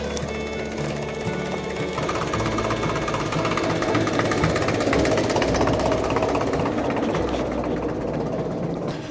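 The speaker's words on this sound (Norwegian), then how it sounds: "Da går vi bort til traktoren. Den står her borte." A tractor engine idles steadily at close range, a continuous low rumble with a droning hum that holds even throughout, with no pauses or revving.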